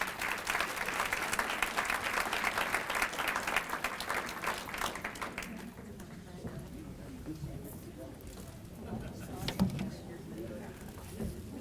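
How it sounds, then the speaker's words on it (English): Audience applause at a Farmington Hills annual volunteer breakfast, dense clapping for about five seconds that then thins out into quieter room noise and a few scattered claps. "Another round of applause for Faye."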